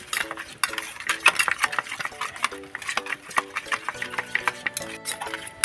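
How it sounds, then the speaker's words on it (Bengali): A spoon beats a ginger spice paste with mustard oil in a bowl, making quick, rhythmic scraping clicks that run steadily throughout at close range. "মশলাটাকে ভালো করে ফেটে দিতে হবে"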